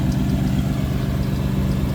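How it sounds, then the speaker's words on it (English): A supercharged Coyote V8 in a Mustang idles steadily up close, a low constant rumble with a faint irregular whine like a worn bearing. "It sounds like a bearing is being weird"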